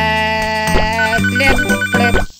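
Phone ringing in the video game Papa's Pancakeria, a loud chiming electronic ringtone repeating in short bursts over a steady background game melody, ending abruptly.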